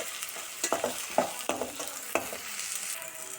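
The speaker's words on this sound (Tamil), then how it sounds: "இது நான் 3 நிமிஷம் நல்லா வதக்கிறேன்" A gravy base of onions sautéing in a pan, soft sizzling with several distinct spatula scrapes and taps at an uneven rhythm, close and fairly quiet, no talking.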